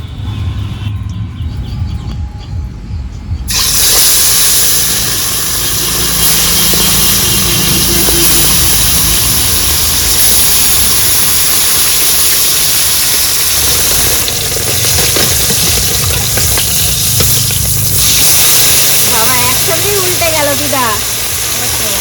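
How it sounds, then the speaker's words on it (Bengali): Japanese puti fish from a home pond frying in hot oil in a wok, with a steady loud sizzle and spatter that runs throughout after a quieter opening, along with some background noise. "মাছ ভেজে নেওয়ার জন্য কড়াইয়ে তেল দিয়ে দিচ্ছি"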